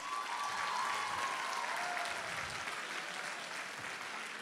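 Steady audience applause at a university fashion show, a dense wash of many hands clapping at moderate distance throughout, with a faint tonal whistle early on and no talk.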